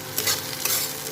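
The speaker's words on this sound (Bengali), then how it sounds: "পেঁয়াজটা প্রায় একটু লাল লাল ভাজা হয়েছে" Onions frying in a pan and being stirred, turning reddish as they brown for a South Indian style Hyderabadi bagara baingan curry; a close, steady sizzle with scraping stir strokes and no voices.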